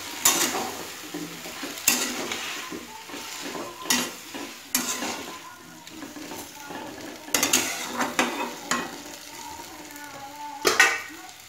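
Chopped chilli and chopped onion frying with softened tomato in a pan for a Bengali prawn curry, a steady sizzle broken by repeated loud scrapes and clanks of a spoon stirring against the pan.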